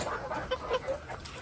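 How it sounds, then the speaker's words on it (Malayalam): Native chickens in a backyard coop give soft, close clucks and short murmuring calls over a quiet background. "ഇത് വേറെ സെക്ഷൻ ഓഫ് കോഴിക്കളാണ്."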